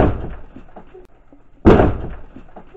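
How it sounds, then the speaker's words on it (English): A heavy door slams shut inside a church, one sudden loud bang after a quiet stretch, followed by a brief echoing decay in the room. "this door just slammed and moved"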